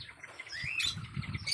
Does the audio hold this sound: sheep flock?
no